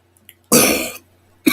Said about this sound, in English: I apologize for all this coughing.